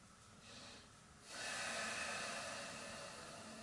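A single slow, deep nasal in-breath during a yoga breathing exercise, soft and close, rising into a long steady airy intake after a brief quiet pause.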